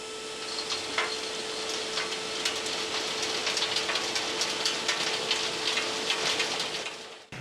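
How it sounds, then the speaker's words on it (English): Steady rain falls, hissing continuously with scattered drips and taps on a hard surface nearby, no voices. "Well, it's raining now."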